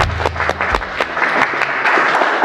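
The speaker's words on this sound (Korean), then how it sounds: "자, 박수 주세요." Applause at a Korean combat-sports exhibition event breaks out as the athletes take the stage, with scattered, fairly loud claps forming an uneven rhythm over a low hum that cuts off early.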